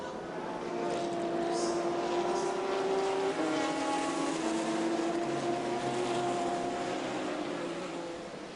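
Race cars at the Dunlop 24H Dubai 2012 endurance race, a Lamborghini among Ferraris, roar past in a sustained engine wail that swells and fades, with a commentator talking over it.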